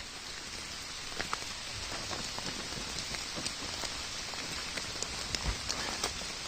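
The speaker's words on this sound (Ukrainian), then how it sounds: "Знову паде дощик." Light rain pattering steadily on leaves and ground in a Carpathian mountain forest, scattered close drops ticking through a soft continuous hiss, with no voices.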